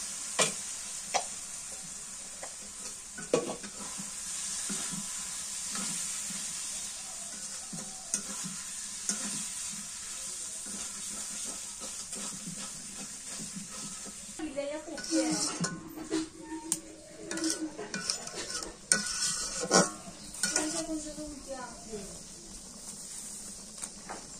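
Chicken liver stirred in a pan of cooked-down spices, frying with a steady sizzle while a utensil scrapes and clinks against the metal in busy, irregular strokes, with brief voices heard now and then.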